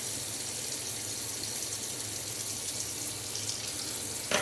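A bathroom tap runs steadily into a sink for cold-water rinsing of the face after a shave, a continuous close hiss and splash with no talking.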